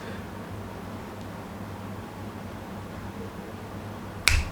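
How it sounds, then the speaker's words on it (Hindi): A single crisp finger snap near the end, heard close up against a faint steady room hiss with no talking. "और चुटकी की आवाज़"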